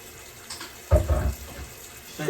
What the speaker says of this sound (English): I'm gonna put some water in this.